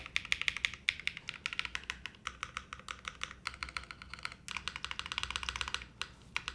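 Rapid, crisp keystrokes on a QK80 mechanical keyboard, a steady close-up clatter of individual clicky taps in bursts with brief pauses, recorded alone with no talking.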